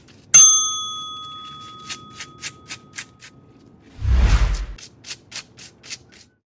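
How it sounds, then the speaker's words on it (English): A mini hacksaw cuts a washer off the drain plug of a 2004 Honda Pilot, a close run of short, evenly spaced rasping strokes after a sharp metallic ring, with a brief dull knock midway. "But a mini hacksaw was a safer bet to not risk cutting into the drain plug's head."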